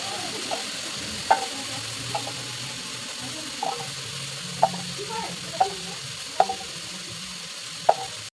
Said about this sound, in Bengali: এই যে লঙ্কাগুলো খুন্তি দিয়ে ফাটিয়ে দিচ্ছি